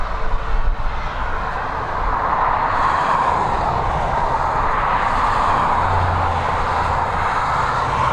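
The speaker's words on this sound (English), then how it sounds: "Qatar is due out in the next couple of minutes. She is taxiing towards us now." Qatar airliner taxiing at Dublin Airport, a steady broad roar of jet engines held at a distance, continuous and even with a low rumble underneath.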